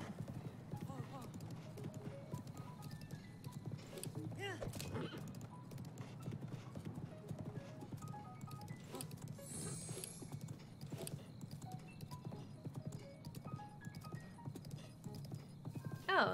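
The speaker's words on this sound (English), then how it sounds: "Good horsey." A horse in Zelda: Breath of the Wild clip-clops steadily over a long stretch, with a neigh partway through and a brief mechanical clatter, all close and even under light game ambience.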